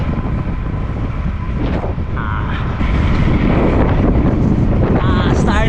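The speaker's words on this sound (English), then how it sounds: "Super windy now." Strong wind roars and buffets against the microphone throughout the bike leg of a full Ironman race in the Philippines, loud and gusty, growing harsher toward the end.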